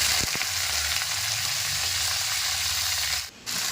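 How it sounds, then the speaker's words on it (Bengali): Whole okra frying in hot oil with dried red chillies, a loud continuous sizzle and crackle with a brief stir near the end, close and without talk. "এবার ভেন্ডি গোটাও দিয়ে দেবো।"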